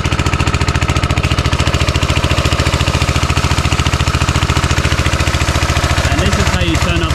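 Davey firefighting pump engine for a bushfire sprinkler system runs steadily at close range, a loud, rapid, even chugging that stays constant throughout with a brief higher clatter near the end.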